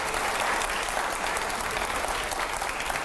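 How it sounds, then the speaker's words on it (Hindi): Loud, dense applause from an audience at a public question-and-answer event with Maulana Mahmood Madani, a steady wash of clapping filling the whole stretch without speech over it. "जोरदार तालियां हो जाए जरा।"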